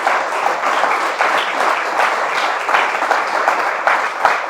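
A church congregation breaks into steady, full applause that fills the room. Many hands clap continuously at an even level with no gaps throughout.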